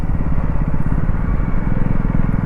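A KTM Duke 250 motorcycle engine runs loud and close with a steady, even throb as the bike is parked in the shade during a long highway ride.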